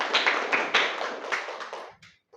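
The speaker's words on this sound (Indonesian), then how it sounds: "Kasih tepuk tangan untuk Lina." Classroom students clap for a classmate during a mathematics lesson, a short burst of brisk, uneven handclaps close by that fades out after about two seconds.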